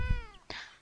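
A single cat meow in the video game Beyond Eyes, close and clear with a rising harmonic tone, followed by a brief softer breathy trailing note.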